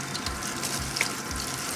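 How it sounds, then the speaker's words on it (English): Cold tap water runs steadily into a sink while tie-dyed fabric is rinsed under it, a continuous close splashing rush. "I'm rinsing it until all those colors don't do it"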